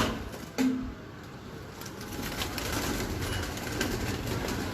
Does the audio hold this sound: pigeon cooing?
yes